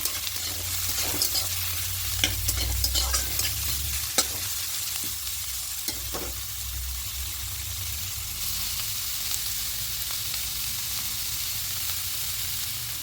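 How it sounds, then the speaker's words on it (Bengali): Chopped tomato and grated carrot are stirred through hot oil in a pan, giving a continuous close sizzle with scattered scrapes and clicks from the spoon. "টমেটো কুচি আর এখানে গ্রেট করা গাজরটাও দিয়ে দেবো একটু ভালো করে একটু মিশিয়ে নেবো"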